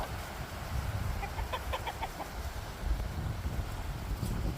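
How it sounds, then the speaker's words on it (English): Chickens cluck softly in a short series of calls over strong gusting wind noise outdoors by the coops on a cold January day. "Here's the chicken babies."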